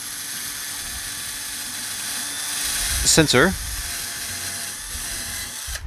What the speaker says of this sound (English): you want to be really careful when you're drilling through, because this outside wall is metal